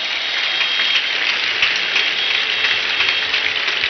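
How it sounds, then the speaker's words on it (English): A crowd at an outdoor Christian crusade in Mbaise claps in a continuous, even roar of many hands, sustained for several seconds at a fairly loud, distant-sounding level. "I want you to clap unto God and appreciate him."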